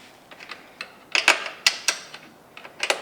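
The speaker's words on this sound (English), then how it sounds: "We've got our 18mm spanner here, and loosen these nuts off." An 18mm spanner works loose the axle nuts on an electric bike hub motor wheel, giving a close, irregular run of sharp metallic clicks and ticks with brief pauses between bursts.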